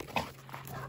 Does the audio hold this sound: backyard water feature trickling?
no